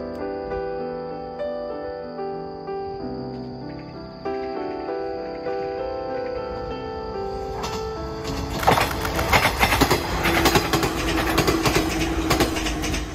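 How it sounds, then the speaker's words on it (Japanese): A Niigata 115 series train approaches and rumbles past at dusk, its noise swelling into a loud rattling roar near the end, with a steady hum underneath. "さあ列車やってまいりました。"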